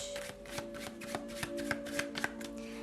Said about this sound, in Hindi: तो चलिए शफल कर लेते हैं